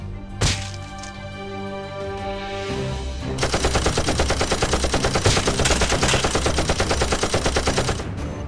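Toy guns in a Nerf war: a sharp snap followed by a sustained rapid mechanical stream of firing, loud and close, running steadily to the end.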